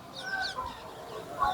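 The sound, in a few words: birds calling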